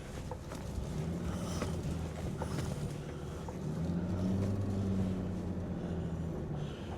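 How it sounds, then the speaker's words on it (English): A 1959 Mercedes 220SE fuel-injected sedan runs at a steady engine hum while being shifted through its gears. The drone holds throughout, with a subtle rise and fall in pitch midway and no voices. "I'll go ahead and shift through the gears."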